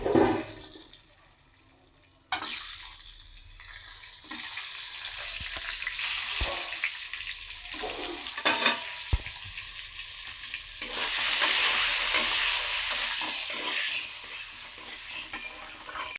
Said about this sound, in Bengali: এরপর ডিমগুলো আমি ভেজে নেবো একটা।